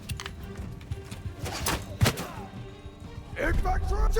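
Gunfire from a Mount & Blade video game battle, with several sharp shots cracking amid loud battle noise and shouting voices, one especially strong report near the middle.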